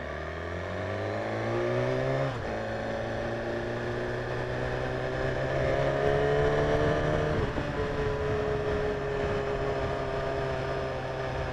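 A BMW S1000RR sport motorcycle engine on a test ride, rising in pitch as it revs through the gears with a shift change, loud and steady with wind noise and no talk.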